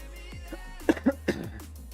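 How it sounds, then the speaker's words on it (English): A person coughs during a live day-trading stream: a short cluster of three quick, close coughs with a throat-clearing quality, in an otherwise quiet room. "I had a cough"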